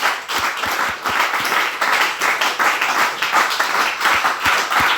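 A church congregation claps and applauds in worship, a dense, steady wash of many hands with some sharper individual claps, loud and close throughout.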